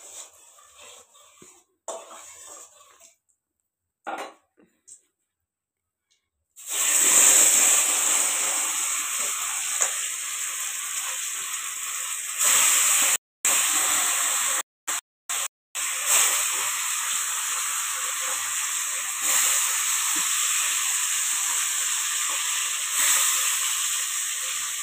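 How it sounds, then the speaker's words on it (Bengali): Fish fries in a pan in a home kitchen, starting after a few seconds of quiet rustling as the fish goes into the oil. It becomes a loud, steady sizzle and hiss that continues for nearly twenty seconds, with a few brief cuts. "মাছগুলো আগে ভেজে নিই।"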